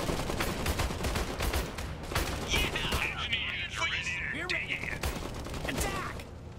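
Gunfire from the real-time strategy game Iron Harvest fills the battle scene with steady rattling volleys and bursts, mixed with shouting and other combat noise, loud and continuous throughout, while voices talk over it.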